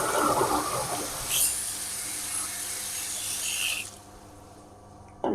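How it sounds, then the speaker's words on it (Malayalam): Water splashes and runs while dry fish is washed for a Kerala curry, a rushing, close flow that fades and stops partway through, leaving quiet at the end. "മീനൊക്കെ നമുക്ക് നല്ലപോലെ കഴുകി എടുക്കണം കേട്ടോ"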